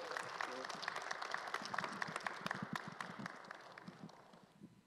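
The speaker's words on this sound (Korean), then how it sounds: "여러분 힘내시라고 뜨거운 박수 부탁합니다." Audience applause at an academic theology forum for a professor about to present a paper, a steady clapping crowd throughout with some talk mixed in, tapering off toward the end.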